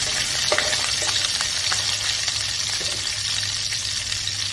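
Crushed garlic and curry leaves fry in a hot tempering for Maharashtrian dahi kadhi, giving off a steady, even sizzle. Faint scrapes and taps from stirring break through now and then, with no talk.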